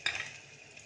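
Ajwain seeds drop into a pan of fried onions with a brief sizzling crackle that quickly settles into a soft, steady hiss.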